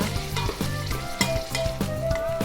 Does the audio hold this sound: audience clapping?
no